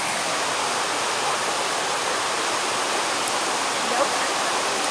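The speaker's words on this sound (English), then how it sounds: "Low waterfall." A low waterfall pours in a steady, dense rush of falling water, constant and fairly loud throughout with no break.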